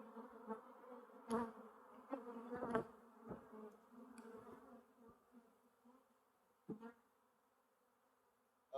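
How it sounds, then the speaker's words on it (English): A swarm of honeybees buzzes steadily around someone outdoors, a dense, droning hum that rises and falls with several louder passes of bees flying close by, heard on its own. "I've never seen bees swarm around me like this."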